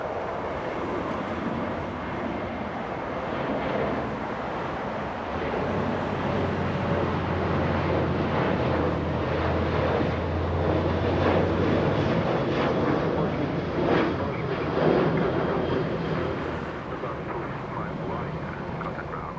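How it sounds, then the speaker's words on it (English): SkyWest Embraer E175 jet arriving at LAX after a short flight from San Diego, a steady broadband roar that swells and holds at moderate distance, with airport ambience around it. "an Embraer E175 arriving in just a few seconds"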